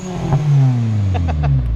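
Supercharged 2011 Toyota Tacoma work truck engine revving loudly up close, a sustained rising and falling drone with a brief blip of throttle, no talking.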